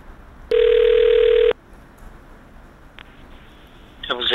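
A telephone rings once during a call to a prosecutor: one loud, steady ring tone lasting about a second, followed by quiet line hiss, a brief click and rising noise at the end.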